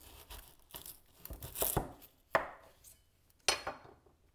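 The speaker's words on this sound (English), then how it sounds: "lay the onion on one of the flat ends and slice it in half" A knife slicing an onion in half on a cutting board, a few sharp close cuts and crisp papery crackles with short gaps between them, quiet overall.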